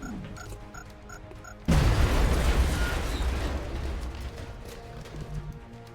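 A frag grenade detonates in the video game XCOM: Enemy Unknown, a sudden loud boom that cuts through light game music and rolls on as a long, slowly fading rumble and crackle.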